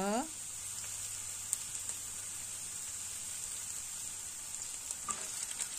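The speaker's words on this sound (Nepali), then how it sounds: "थोरै अब लसुन दुई तिन केसरा मसिनो गरेर काटेको एकैछिन घुट्नुपर्छ" Finely chopped garlic, with a little minced ginger, stir-fried in a pan while making chilli momos, giving a steady, close sizzle across the whole stretch, a faint voice at the very start and light scraping near the end.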